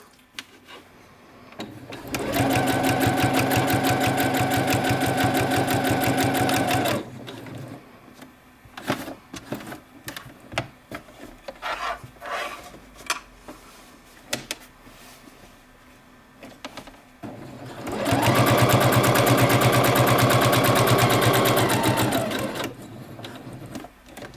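A sewing machine stitches fabric for a small keychain project in two steady, loud runs of rapid needle clatter, separated by quieter handling sounds and thread trimming.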